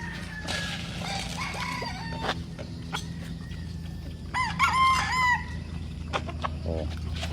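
Chickens and roosters on a large farm in the Philippines cluck and crow at feeding time, with a prominent nearby crow in the middle over steady background farm noise.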